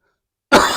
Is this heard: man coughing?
yes